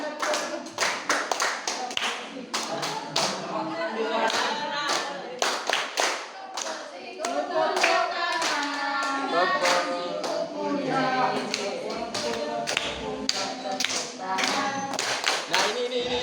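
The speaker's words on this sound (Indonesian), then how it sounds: "Tepuk tangan." A classroom of students claps hands together in a long burst of sharp, irregular claps, fairly close and loud, with a brief pause and then more clapping; a few voices are faintly audible in the room.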